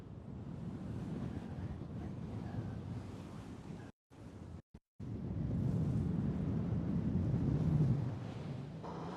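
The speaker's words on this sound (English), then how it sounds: "It's windy now." Seaside wind at a paragliding training site roars steadily into the microphone, mixed with the wash of surf, broken by two brief dropouts before the gusts return louder.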